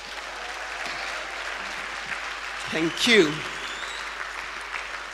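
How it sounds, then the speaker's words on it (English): Church congregation clapping for the Lord at a worship service, a steady broad wash of hand claps throughout with a short spoken thanks over it near the middle. "give the Lord a mighty hand clap."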